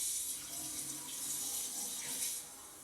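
Hot water runs steadily from a tap, a continuous hissing splash at moderate loudness with no other sounds over it.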